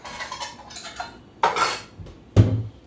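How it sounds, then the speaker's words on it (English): A measuring cup taken out and handled in a kitchen, with a few close clinks and knocks of cup and utensils, the last one heavier, and no talk. "let me get out my measuring cup here"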